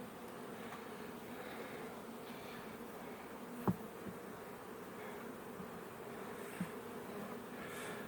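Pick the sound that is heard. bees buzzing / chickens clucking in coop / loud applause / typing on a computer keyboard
bees buzzing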